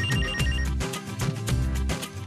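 A telephone rings in repeated electronic bursts, three or four loud close pulses in quick succession with short gaps between, heard alone without talk.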